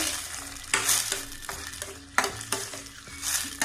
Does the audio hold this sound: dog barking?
no